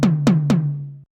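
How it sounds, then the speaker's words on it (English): Three evenly spaced 80s synth tom strikes from an Oberheim DMX drum machine, each a sharp attack sliding down into a sustained low hum, play close and loud before stopping abruptly. "So it's that very 80s synth tom"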